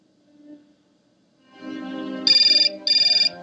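A telephone rings in the video game Syberia, two short bright electronic ring bursts following soft low tones.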